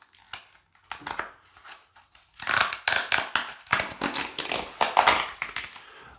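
Plastic packaging for a Samsung Galaxy S21 Ultra clear cover gets opened up close: sparse crinkles at first, then a dense run of sharp crackles, rips and rustles lasting several seconds, with no talk.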